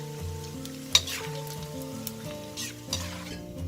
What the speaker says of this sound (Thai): ใช้เวลาในการทอดโดยเฉลี่ยแล้วประมาณ1นาทีนะ